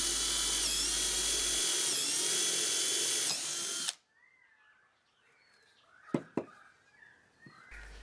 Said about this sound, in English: Here I'm using a twist bit to drill through a piece of scrap timber.